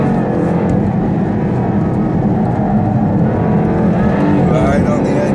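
A 550 to 560 horsepower Jaguar coupe accelerates hard on a race track, its loud engine roar steady and close throughout, with the wheels spinning and people talking over it.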